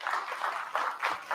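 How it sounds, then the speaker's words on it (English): Audience applause at a live kayak fishing awards show, a steady wash of clapping with swells and brief dips, moderately loud and close throughout. "give him a round of applause."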